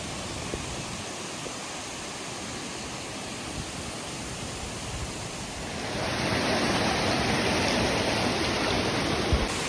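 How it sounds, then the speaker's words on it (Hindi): Steady broadband roar of a waterfall where alpine meadow gives way to forest in the Himalayas near Dangu Bugyal, constant and close, growing louder and fuller partway through, with no voices. "खूबसूरत सा झरना दिखाई दे रहा है वहाँ से निकलता हुआ"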